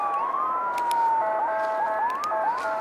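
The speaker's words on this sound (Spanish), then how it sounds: "Como siempre, las sirenas, ¿verdad?" Emergency vehicle sirens wail and yelp at night on a Los Angeles street, rising and falling in a steady cycle, moderately close and clear, with no talk over them.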